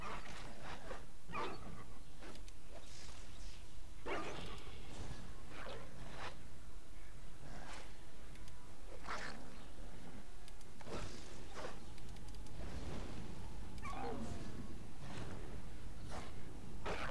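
Dogs in the online fantasy game Rift, heard as repeated short barks and yips spread across the whole stretch over a constant game background, with no talk.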